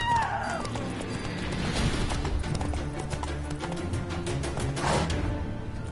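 In a video game, the horse Roach's hooves clip-clop steadily in a rapid trotting rhythm, close and clear against a low ambient backdrop.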